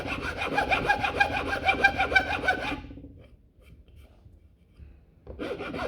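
A file rasping back and forth across the edge of a wooden die held in a vise, fast rhythmic close strokes for a few seconds, a short pause, then filing resumes.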